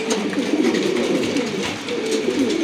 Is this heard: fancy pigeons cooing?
yes